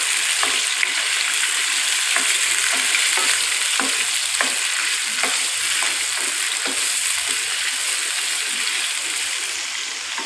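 Ginger garlic paste fries in hot oil with a loud, dense and continuous sizzling hiss, close by, with faint stirring ticks and no speech.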